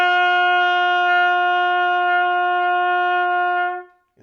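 Played with open valves, a trumpet sounds a sustained upper C, a clear, steady tone held for nearly four seconds before stopping, alone and close.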